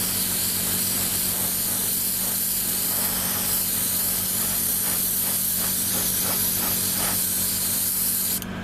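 An airbrush sprays Mr. Color 308 gray lacquer onto the underside of a 1:72 F-15J model kit, a continuous close hiss with slight pulsing that holds steady for the whole stretch.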